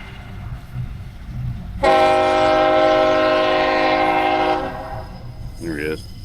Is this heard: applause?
no